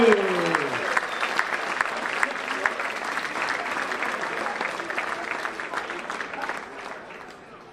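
An audience at a charity anniversary gala applauds bidders in an auction, a dense, sustained clapping that swells loud and then gradually thins and fades, with a voice briefly heard at the start.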